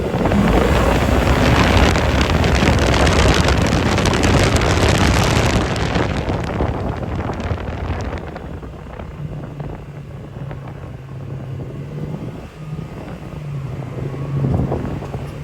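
A 2024 Polaris Expedition XP Ultimate side-by-side accelerates, its engine droning under heavy wind buffeting on the microphone that eases after several seconds, leaving a lower steady motor hum.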